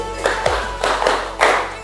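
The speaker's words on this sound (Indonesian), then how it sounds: "Tepuk 5 kali." A classroom of students claps together in unison, a few sharp, near, fairly loud collective claps spaced unevenly over about two seconds.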